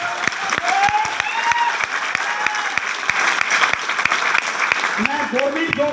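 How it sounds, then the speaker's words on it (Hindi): Loud, steady audience applause fills a hall after a guest is introduced at a motivational seminar, with cheering voices and whoops rising through the clapping near the end. "उनके लिए जोरदार ताली दो।"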